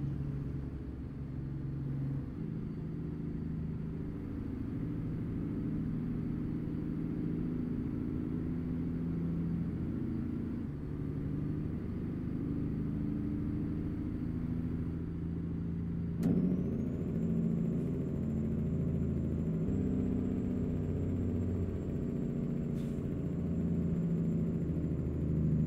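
A heavy truck engine drones in American Truck Simulator, a low steady rumble with faint gear changes, later joined by a high thin whine, alone and moderately quiet throughout.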